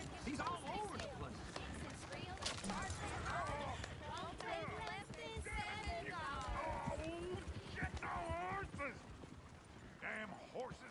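Horses clatter along with hooves clip-clopping in a quick running rhythm beneath loud, almost continuous talk between several people.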